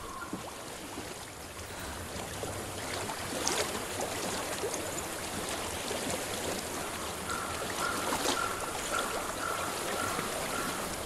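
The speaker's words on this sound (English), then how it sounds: "I hear water." Flowing stream water in the Hellblade: Senua's Sacrifice video game, a soft steady babbling and trickling that runs continuously with light splashy flickers, fairly quiet and alone.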